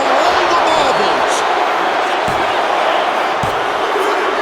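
Crowd at a wrestling match in a video game, a dense steady roar of cheering and murmuring with a couple of thuds, with a commentator talking over it.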